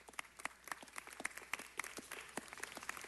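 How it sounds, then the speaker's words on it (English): Audience applause at a city council meeting, a thin scattering of claps with individual sharp hand strikes standing out, fairly quiet and steady for a few seconds with no talking. "let's give them a big round of applause"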